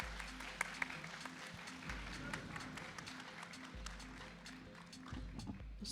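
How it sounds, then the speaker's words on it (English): Faint, quiet applause from a live audience at a 1v1 esports tournament match, soft scattered clapping running continuously for several seconds over a low steady hum. "Round of applause."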